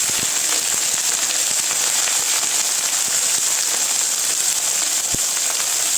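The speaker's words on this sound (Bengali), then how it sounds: "এখন আমি এই তেলেই এই যে পাট পাতাগুলো আমি গিঠু মেরে রেখেছিলাম সেইগুলোকে ভেজে নেব।" Jute leaves fry in hot oil with a dense, continuous sizzle and scattered sharp pops, loud and close throughout.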